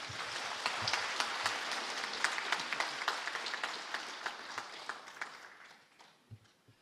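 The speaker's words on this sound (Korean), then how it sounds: "여러분 거기에 동의하시면 박수 한번 주세요" An audience at a membership workshop claps together in sustained applause that gradually thins out into a few scattered, separate claps before fading.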